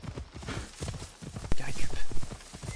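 A horse clip-clops at a gallop in the video game Assassin's Creed Odyssey, with steady close hoofbeats and a sharp knock midway. Someone speaks French over it.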